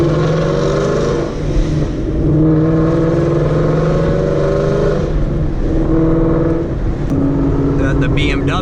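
A loud full-bolt-on Gen 3 Mustang drones steadily, its engine note rising and falling through several revs, close and heavy, with a person talking over it.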